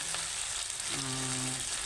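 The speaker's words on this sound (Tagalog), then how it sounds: "nagpiprito tayo ng 2 tilapia" Oil sizzles and crackles steadily as two tilapia fry in a pan, a continuous close-up hiss.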